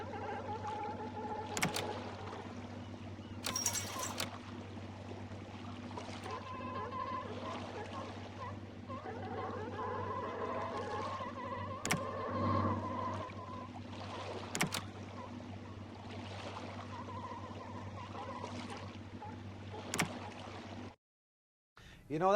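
In the Deadliest Catch: Alaskan Storm video game, a fishing boat's engine drones as a steady low hum at throttle, with water lapping and scattered sharp clicks over it, then briefly cuts out near the end.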